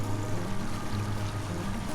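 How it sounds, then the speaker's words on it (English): Steady low engine drone of a small 20-horsepower dinghy outboard motor running continuously, with water noise blended in, fairly close and even in loudness. "I really love having this 20 horsepower outboard for the dinghy"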